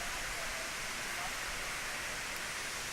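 Purling Brook Falls in Springbrook National Park, a 100-meter drop into a pond, makes a steady, even rushing hiss, soft and distant, with no breaks.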